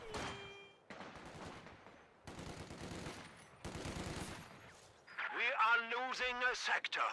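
Machine gun fire in a video game comes in several rapid bursts, fairly quiet, before a commentator's voice takes over at the end.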